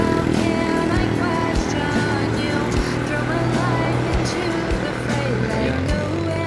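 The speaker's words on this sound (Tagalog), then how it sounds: "So ayan, this is a busy road. Daming dumadaan, lalo na kung peak hour." Traffic streams along a busy road in the Philippines at night during peak hour, with motorcycles and cars passing close by in a loud, continuous rumble and occasional engine surges.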